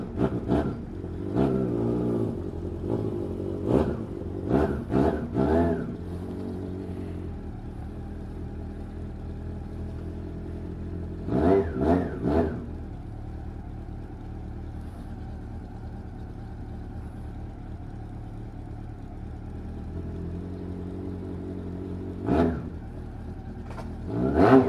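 Motorcycles starting up and revving as riders leave a Moto Romaria pilgrimage ride, several sharp throttle bursts near the start and middle, one more near the end, over a steady idling drone.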